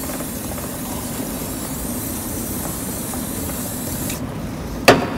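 Chain cleaner is sprayed onto a motorbike chain as a steady hissing spray continues for several seconds, ending in a short, sharp burst close to the microphone.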